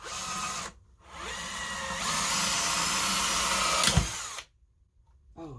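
A power drill pre-drills wood at an angle, whirring steadily for a few seconds, pausing briefly, then drilling again before cutting off to near silence.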